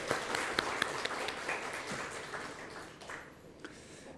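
Scattered clapping and applause ring out from a congregation during a Sunday church service, fairly faint and thinning toward the end.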